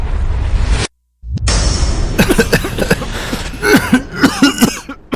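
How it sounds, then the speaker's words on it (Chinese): Several people coughing in a street of the capital during a smallpox outbreak: a string of harsh, overlapping coughs from different voices, following a brief whoosh and a moment of silence. "你看那边有好多人在咳嗽"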